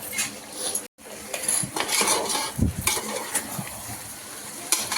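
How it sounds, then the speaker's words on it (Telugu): Mutton frying in masala in a pan, with a bright sizzle under frequent metallic clinks and scrapes of a spoon stirring against the pan, close and fairly loud over a few seconds. "అన్నీ ఇంకొక 5 మినిట్స్ బాగా ఫ్రై చేసుకోవాలి"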